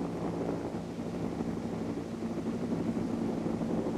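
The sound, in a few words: RAF Leuchars helicopter flying around lifeboat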